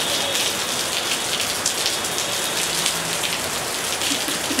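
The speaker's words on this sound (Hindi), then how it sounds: "बारिश तो आई।" Steady outdoor rain pours onto surfaces in a dense, even hiss with scattered louder drops, continuous and close, during a video shoot.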